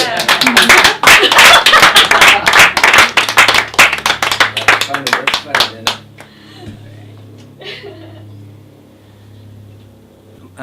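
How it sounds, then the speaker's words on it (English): A crowd claps enthusiastically for several seconds, then the applause thins into scattered claps and fades away. "Maybe a round of applause for Exceli."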